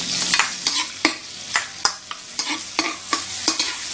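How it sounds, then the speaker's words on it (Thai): Chilies fry in oil in a wok, a close hiss and sizzle broken by regular sharp clacks of a spatula scraping and tossing, roughly two strokes per second. "เราก็จะใส่น้ำมันลงไปเลยท่านผู้ชม น้ำมันพอประมาณครับท่านผู้ชม หลังจากนั้น นะครับ เราก็จะ เคี่ยวพริก"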